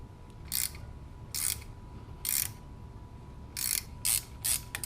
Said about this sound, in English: I'm going to really carefully loosen this top nut